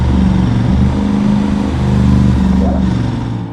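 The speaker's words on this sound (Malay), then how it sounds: "Dengan engine crank 270 darjah, bunyi dia memang sedap didengar." An Aprilia RS 457 parallel-twin with a 270-degree crank revs loudly and close, a deep throbbing growl that rises and falls steadily with no speech.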